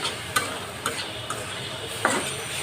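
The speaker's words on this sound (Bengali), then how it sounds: "চুলার আঁচটা বাড়িয়ে ভেজে তারপরে নেড়ে চেড়ে ভেজে নামিয়ে নেবে" A spatula stirs village-style fish, snake gourd and potato frying in a pan on a stove, with a few sharp scraping clicks at uneven intervals over a steady, moderately loud sizzle.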